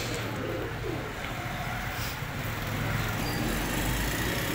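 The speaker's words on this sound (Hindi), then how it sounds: "बहुत प्यारा कबूतर है जी, ब्रीडर कबूतर है।" Breeder pigeons coo softly against a steady wash of outdoor noise and passing traffic.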